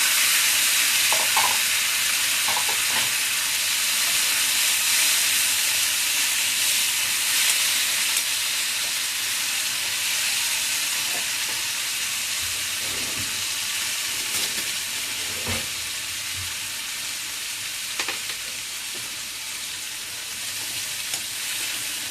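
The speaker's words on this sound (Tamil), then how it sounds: "வேக வச்ச சுண்டலை போடும்." Boiled red chana sundal sizzling and frying in a hot pan with asafoetida, a steady broadband hiss with occasional stirring clicks and scrapes, close and continuous with no talk.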